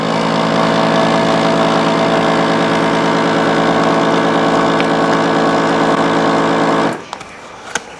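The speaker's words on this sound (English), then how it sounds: "hit the second button, which is vac seal" A vacuum sealer pulls air from a bag of fresh salmon and seals it, a loud, steady droning motor hum that runs unbroken for several seconds, then cuts off abruptly into quiet handling noises.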